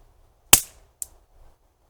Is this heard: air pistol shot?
yes